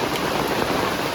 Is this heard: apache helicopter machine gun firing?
no